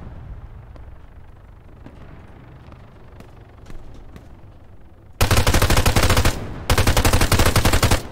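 Rapid automatic bursts from a Promet 6.5mm rifle in Arma 3 arrive after a stretch of quiet ambient noise, two loud sustained strings of gunfire separated by a brief pause.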